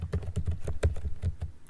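Close, quick keystrokes on a computer keyboard as a setup command is typed at a command prompt during a Microsoft Office installation, a short uneven burst of clicks with no talking.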